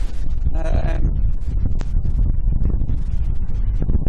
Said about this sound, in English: I've got these sheep and horses in this field here.